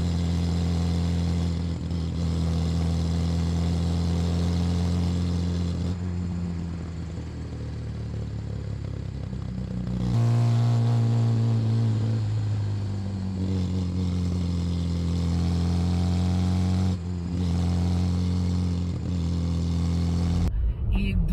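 A Fiat 127 driving with no power steering: the small engine hums steadily, then revs higher as it accelerates and shifts, with road rumble and cabin clatter throughout and no talk.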